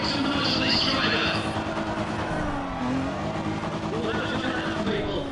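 Race car engine in a racing video game, revving hard as it accelerates with a steady high buzzing drone and rising pitch sweeps, loud and continuous under a commentator's voice.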